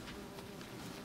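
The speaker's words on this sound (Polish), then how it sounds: "Patrzcie, widzicie? To są pszczoły." Bees buzzing in The Witcher 3: Wild Hunt: a faint, steady insect drone that holds evenly for about a second with no talk.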